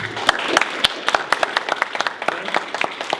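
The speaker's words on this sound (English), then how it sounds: "round of applause for I love your smile" Scattered, uneven applause from a small audience at a poetry event, individual claps distinct and irregular for a few seconds with faint voices underneath.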